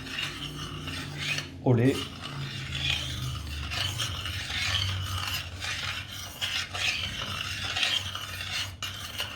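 Spoon stirring crème fraîche into milk in a pot for brandade, a steady close scraping and swishing that runs continuously, with a brief spoken phrase near the start.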